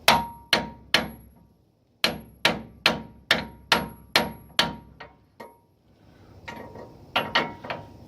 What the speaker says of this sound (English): The width is pretty close to the seal itself, and just hammer away.